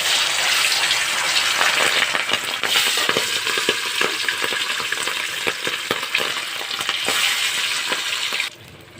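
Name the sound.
fish frying in oil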